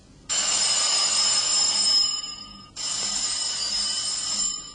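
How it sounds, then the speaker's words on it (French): A telephone bell rings loudly and close by in two long, bright bursts of about two seconds each, separated by a short gap, with no voices. "Le téléphone sonne."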